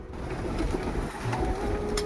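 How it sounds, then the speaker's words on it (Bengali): Pigeons on a rooftop coo in a continuous low, throaty murmur while being fed, moderately close and steady throughout, with no voices. "এই পায়রার খাবার দেবো"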